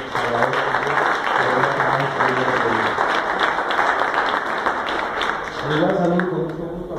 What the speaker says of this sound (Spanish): un fuerte aplauso para nuestro amigo